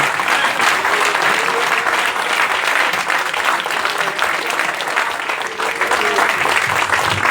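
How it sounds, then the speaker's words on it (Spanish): A church congregation gives loud, sustained applause during a worship service, a thick, even roar of clapping hands that fills the room from start to finish. "te damos gloria con este fuerte aplauso, Señor"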